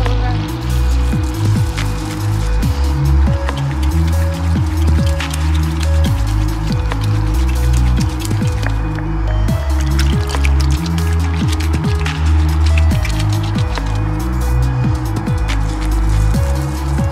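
Soap root fibers worked by hand in hot water to raise a lather, a continuous close wet squishing and dripping with steady sloshing splashes throughout.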